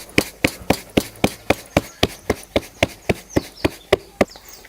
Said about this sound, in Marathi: आता मी ही भाकरी थापून घेते